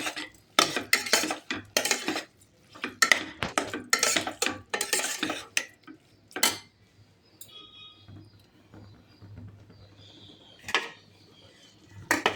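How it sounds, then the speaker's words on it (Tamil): Tomatoes sautéing for vegetable biryani while a utensil stirs them, with bursts of metallic clatter and scraping against the pan over the first half, then quieter sizzling with occasional taps. "தக்காளியை போட்டு நல்லா வதங்கணும்."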